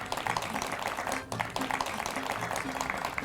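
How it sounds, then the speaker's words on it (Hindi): A studio audience at a television anniversary Eid special program claps in a continuous, dense stretch, with a brief dip partway through before the applause resumes. "मैं अपने ऑडियंस से गुजारिश करूँगी कि K2 टेलीविज़न के लिए एक दफ़ा तालियां हो जाए"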